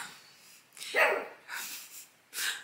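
A few sharp dog barks in short bursts, fairly close, with brief pauses between them.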